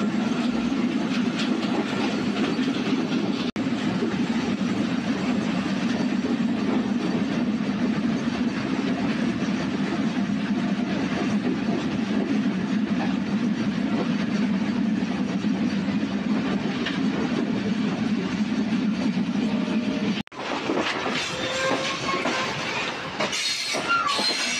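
The Varendra Express on the run from Rajshahi to Ahsanganj makes a loud, continuous rumble of wheels on rails, with steady rattling and clatter and a brief shift near the end.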